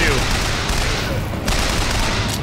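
Dense gunfire in the BioShock Infinite video game, loud continuous shots and booms packed into a chaotic fight, with a voice talking over the din.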